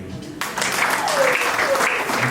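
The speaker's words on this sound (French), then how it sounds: "vous pouvez les applaudir" Applause from colleagues at a mourning ceremony in Kinshasa swells suddenly and holds steady for about two seconds, a dense crowd clapping at close range with some voices mixed in.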